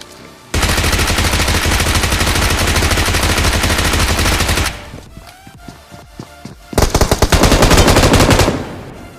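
Gunfire in the mobile battle royale game BGMI: a loud, close, sustained automatic burst for several seconds, a brief pause, then another rapid burst of rattling shots.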